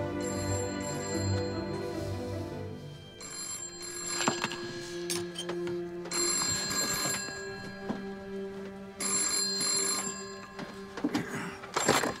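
A telephone rings with repeated electronic bell bursts separated by short gaps, clear and close, layered over a background of music.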